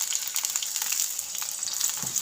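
Egg batter hitting a hot non-stick pan greased with a spoonful of oil, a bright, dense, close sizzle crackling steadily throughout with no talk.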